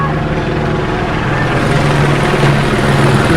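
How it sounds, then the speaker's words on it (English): A helicopter flies over a protest scene in Los Angeles, where federal agents clash with protesters during a raid. Its rotor and engine make a steady, loud, continuous drone throughout, with a dense wash of street noise and no clear break. "Helicopter."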